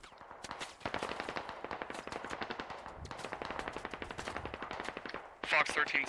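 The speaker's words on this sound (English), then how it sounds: "We're taking direct fire from..." Rapid automatic gunfire in the military shooter Squad, long bursts of sharp cracks rattling almost without pause, loud and close, with a heavier burst near the end and faint voices underneath.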